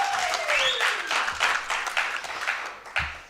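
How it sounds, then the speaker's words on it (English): Audience applause at a 2023 International Mother Language Day celebration: a dense, steady wash of clapping fills the room, with a sliding whistle-like tone rising above it early on. "Can you just give a round of applause for that?"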